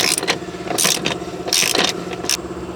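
Geared mechanism of a Z-drive sterndrive on a Princess 286 boat being slowly turned by hand, giving repeated mechanical clicks, scrapes and gear meshing in several close bursts with no voices.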